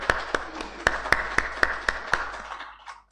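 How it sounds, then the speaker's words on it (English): At a big tech accountability summit, scattered rhythmic claps ring out in a hall, about a dozen distinct evenly spaced hand claps with reverberation, fading toward the end. "An applause for them."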